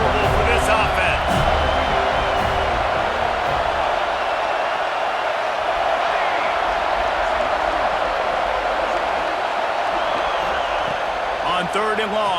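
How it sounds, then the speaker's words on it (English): Stadium crowd roar from a college football video game, a dense continuous wash of noise holding steady throughout with a commentator talking over it. "This crowd trying to make life miserable for this offense."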